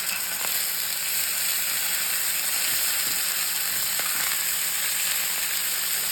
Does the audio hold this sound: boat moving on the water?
no